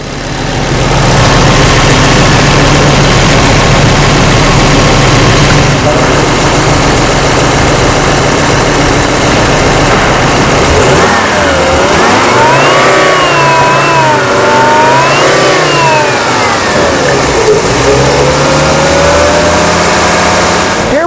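A Volvo S70 with an intermittent CAN communication fault idles steadily at close range, a loud continuous engine drone with a shifting whine rising and falling partway through.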